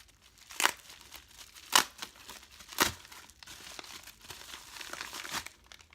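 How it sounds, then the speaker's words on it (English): Bubble wrap packaging around a bottle of castor oil is unwrapped, giving close crinkling and rustling with three sharp crackling bursts spaced about a second apart, no talking. "So there's bubble wrap. Let's see let's open this."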